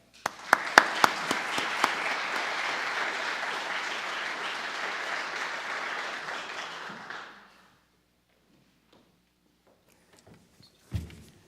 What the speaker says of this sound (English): I worry a little bit about the applause at the start